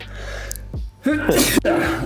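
One person sneezes sharply and loudly, close to the microphone, with a breath drawn in before it and faint murmured voices before and after.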